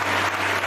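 Brief, dense applause from a studio game show audience, steady and fairly loud throughout a short burst, with no talk.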